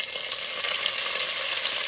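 Jalapeno, garlic and Holy Trinity vegetables (onion, celery, bell pepper) sizzle in hot canola oil over medium-high heat for Creole vegetarian dirty rice, a steady, close, even frying hiss with no talk.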